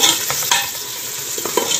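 Sliced onions sizzle in a hot pan as they turn light brown for a chicken handi korma, with a dense, steady crackle broken by a few soft scrapes from a stirring spoon.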